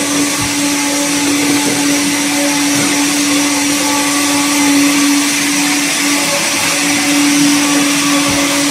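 A motorized meat mincer grinds pork into keema, a loud steady mechanical drone with a constant hum and no pauses, running alone throughout.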